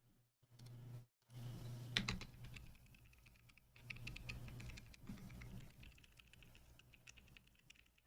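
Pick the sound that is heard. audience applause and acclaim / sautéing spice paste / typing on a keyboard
typing on a keyboard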